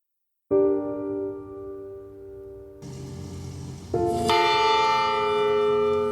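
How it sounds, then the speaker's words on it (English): Several large church bells ring out one after another, their deep, sustained tones layering into a loud, resonant peal. "As the church bells rang on a cold gray day"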